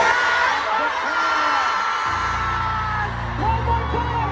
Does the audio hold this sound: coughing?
no